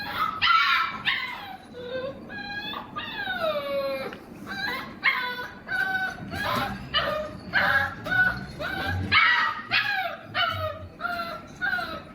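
A dog barks, yips and whimpers from a played video clip, a string of loud, uneven barks and high whines in close succession.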